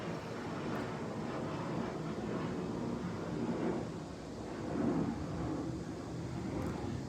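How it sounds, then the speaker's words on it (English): Airplanes flying over near an airport heard from inside a home, a steady low rumbling roar that swells slightly, fairly faint and continuous with no talking. "there are airplanes flying over right now, and it is loud"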